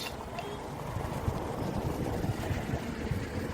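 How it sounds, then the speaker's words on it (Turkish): Low, steady wind rumble buffeting outdoors, a soft continuous whoosh with faint gusty fluctuations and no speech. "Çok azıcık rüzgar var sadece."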